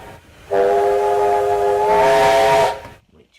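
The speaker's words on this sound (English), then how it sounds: "The other whistle is the S160 whistle." The whistle of an American S160 steam locomotive sounds one long, loud, steady chime for about two seconds, then cuts off sharply, leaving a brief hiss.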